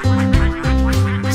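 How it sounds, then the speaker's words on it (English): A duck quacks loudly and up close in a children's counting song, with several quick nasal quacks over a bright musical backing. "ducks."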